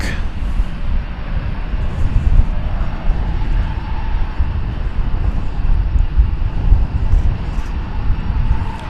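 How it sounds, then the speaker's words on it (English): An airliner departing DFW Airport at night for El Paso, a continuous, fairly loud engine rumble and roar in the background, with someone talking over it. "There goes the flight to El Paso"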